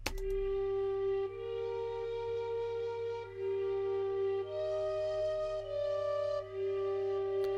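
A solo flute-like lead from Studio One Expand plays a trap-beat counter melody, holding long sustained notes that step up and down in pitch, clean and alone with no voices.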